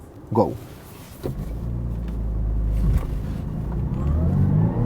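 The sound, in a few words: Audi A7 2-litre four-cylinder accelerating, S-Tronic gearbox shifting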